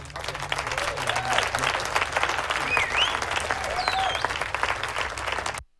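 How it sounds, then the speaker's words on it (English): A burst of crowd applause added as a stock effect in the Podcastle podcast editor, steady dense clapping at full level for about five seconds before cutting off abruptly. "let's do some applause"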